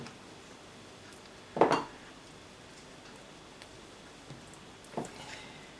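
Filling being mixed in a bowl for a stuffed bread loaf, with a couple of sharp clinks of a utensil against the bowl, one loud near the start and a softer one later, over quiet room background.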